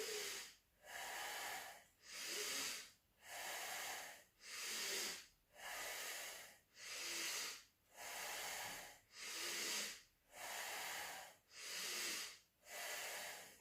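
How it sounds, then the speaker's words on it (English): Steady pranayama breathing exercise: about eleven even, airy breaths in and out, close and hissing, each lasting roughly a second with brief pauses between, with no talking. "Breathing in, breathing out."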